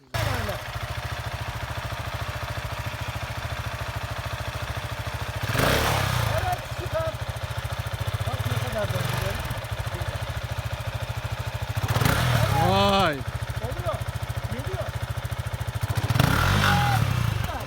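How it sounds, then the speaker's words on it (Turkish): An off-road motorcycle engine running steadily at a low drone, with several rising revs and gear changes during an off-road session in Fethiye, people talking over it. "Evet, dönüyor bak motor."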